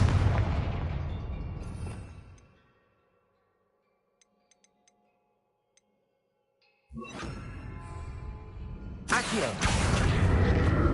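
A Confringo spell explosion in Hogwarts Legacy, a loud fiery blast that fades into near silence with a few faint ticks, then more heavy booming bursts erupt and build toward the end.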